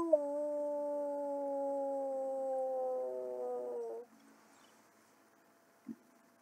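A person cups their hands and voices an imitation of a wolf howl: one long, steady, tonal howl lasting about four seconds that gently falls in pitch, then quiet with a brief soft knock.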